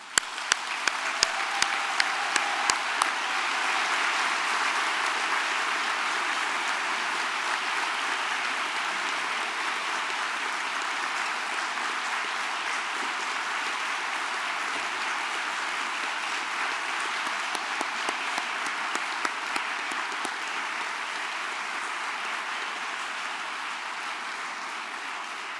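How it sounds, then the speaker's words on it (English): Sustained applause from a large graduation ceremony audience, starting with a few sharp claps and swelling into a steady, even wash of clapping for about twenty-five seconds. "applaud the family and friends who are with us here today"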